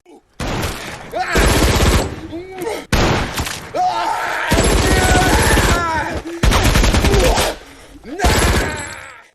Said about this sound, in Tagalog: Kinuha niya ang mabigat na machine gun at sumugod pabalik sa laban.